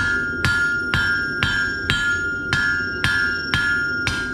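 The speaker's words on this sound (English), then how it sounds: "now I'm going to hammer on the corners to make that square taper octagonal" Blacksmith's hammer strikes the corners of a square steel taper, forging it octagonal for a classic dinner bell: about eight evenly spaced, ringing metallic blows with a sustained bright tone between them, close and alone.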